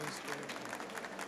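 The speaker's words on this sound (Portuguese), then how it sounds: "Uma salva de palmas." Audience at a tech conference talk applauding, a dense wash of many hands clapping that carries steadily through the moment with voices mixed in.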